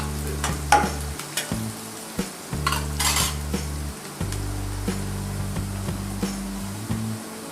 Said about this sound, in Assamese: লৰচৰ কৰি দিম।